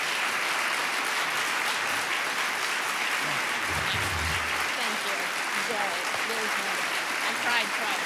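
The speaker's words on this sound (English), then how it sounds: "the audience stands and applauds" Audience on its feet applauding at a music lesson event, dense sustained clapping filling the room throughout, with a faint voice briefly audible underneath.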